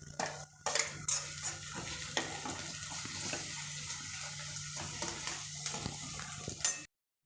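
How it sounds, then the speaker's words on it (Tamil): Curry leaves hit hot oil with ginger-garlic paste for an egg gravy, giving a steady close sizzle and frying crackle throughout with occasional stirring scrapes, no talk. "அது இந்த கருவேப்பிலையை நான் போட்டுறேன்"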